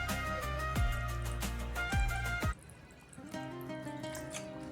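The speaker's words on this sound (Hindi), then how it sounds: "थोड़ा सा पानी ऐड कर देंगे।" Water poured into a pressure cooker holding beef kidney and liver, a splashing, trickling pour with pitched gurgles that stops abruptly, leaving softer dripping and liquid settling close by.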